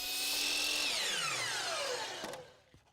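A miter saw spins down after cutting crown molding set vertically, its high whine falling steadily in pitch over a couple of seconds before a final clunk, loud and close.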